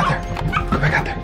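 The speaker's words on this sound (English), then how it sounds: "There's the dog right there." A small dog gives a few short, sharp yipping barks close by, with a whimpering edge.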